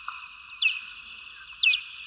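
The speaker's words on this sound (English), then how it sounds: "so these are little chirps" Bat calls from a recording, played back as small chirps: two quick, bright, downward-sweeping tweets about a second apart over a faint steady tone, close and clear, with no talk.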